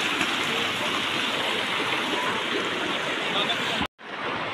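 Steady broadband rush of a shallow stream near a waterfall by the Shimla highway, loud and continuous, cutting out briefly near the end before resuming.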